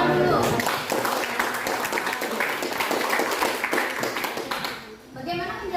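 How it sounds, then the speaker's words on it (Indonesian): Classroom applause from a group of students, a dense patter of many hands clapping for several seconds, with some voices mixed in before it fades out. "Kasih tepuk tangan dulu."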